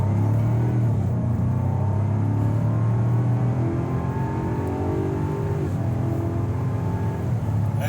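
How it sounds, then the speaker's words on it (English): A 2023 Land Rover Defender 110 engine revs hard with a deep exhaust rumble, pitch climbing steadily then dropping back, loud and close with no talking. "Exhaust sounds amazing."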